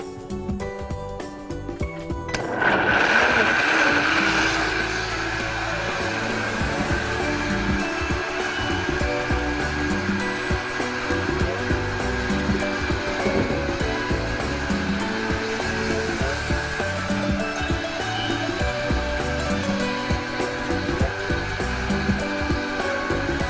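A blender whirs steadily as it mixes a drink with water in a home kitchen, starting abruptly after a brief pause and running loud and continuous to the end with no talking.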